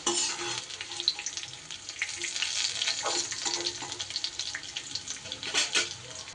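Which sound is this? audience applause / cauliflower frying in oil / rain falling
cauliflower frying in oil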